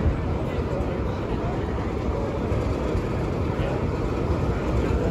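A heavy, steady low rumble of a Class 24 diesel locomotive engine at Corfe Castle on the Swanage Railway, continuous and fairly loud throughout with no clear breaks.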